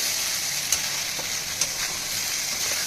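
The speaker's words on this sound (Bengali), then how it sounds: "এবার এটাকে ভালো করে মিক্স করবে, আবারও 2-3 মিনিট একটু ভাজা ভাজা করে নেবে।" Salt, turmeric and spices sizzling and frying in a pan for khichuri, a steady close hiss with a few brief stirring clinks, no talk.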